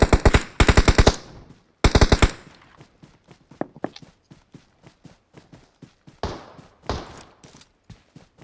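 Automatic gunfire bursts out in PUBG Mobile, heavy rapid volleys early on, then scattered single shots and shorter bursts of varying loudness, coming from below the player.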